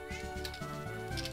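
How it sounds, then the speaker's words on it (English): Cat meowing indoors, a few soft, short mews heard faintly over a low background hum. "My cat is meowing."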